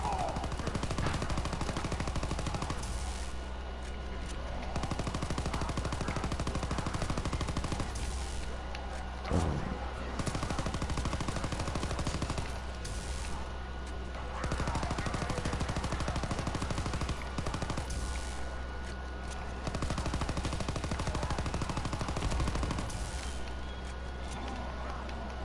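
Dense, continuous gunfire in a zombies video game, with steady rapid shots and a few heavier thuds running under constant game noise for the whole stretch, with a voice heard intermittently.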